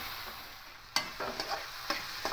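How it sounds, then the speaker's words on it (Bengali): Spice paste loosened with a little water sizzles in a pan while being stirred for a fish-head and potato dish, a steady frying hiss broken by a sharp utensil knock and a few scraping strokes. "এবার একটু কষিয়ে নেব"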